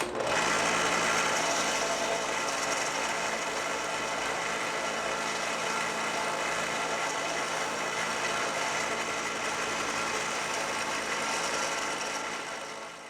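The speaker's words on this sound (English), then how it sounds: "Now we can go ahead and buff it." A buffing wheel runs steadily while a hidden tang knife handle is buffed, a constant motor whir with a faint rubbing texture, unbroken for over ten seconds before winding down.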